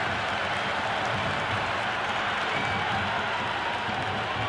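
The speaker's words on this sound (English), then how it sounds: "It's evident and ever so audible that the crowd is at near bursting point at today's play." A stadium crowd in the cricket video game Cricket 26 roars after a six in a Sri Lanka versus Pakistan T20 match, a constant loud wash of cheering and clapping with no talk over it.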